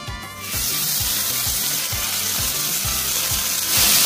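Silver perch (shetka) frying in hot oil in a pan, a loud steady crackling sizzle that swells near the end, with a faint rhythmic knocking underneath.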